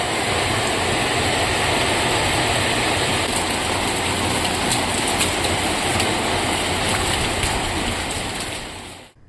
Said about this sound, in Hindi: आज फिर छिंदवाड़ा में तेज हवाओं व गरज के साथ बारिश का नजारा देखने को मिला।